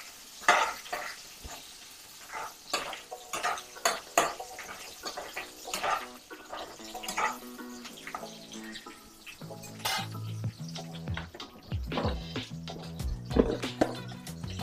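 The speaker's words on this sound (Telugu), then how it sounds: "పచ్చిమిర్చి, క్యాప్సికమ్ వేసుకొని లైట్గా ఫ్రై చేసుకుందాం. హై ఫ్లేమ్ మీదే ఫ్రై చేసుకోవాలి ఎప్పుడైనా సరే." Green chillies and capsicum fry over a high flame for street-style veg Manchurian, steady sizzling broken by repeated scraping and stirring clatter against the pan, close and fairly loud, with no talk.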